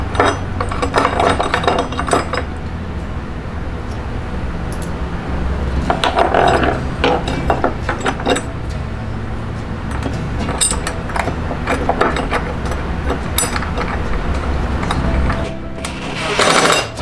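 A nut is started and turned onto a bolt of a bed bracket: close, loud clicking, ratcheting and rattling metal handling with knocks and scrapes, irregular throughout with a few sharper bursts.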